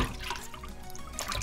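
A whole fish being washed in water with lime juice, giving soft close splashing and trickling with small drips, faint and brief, with no talking.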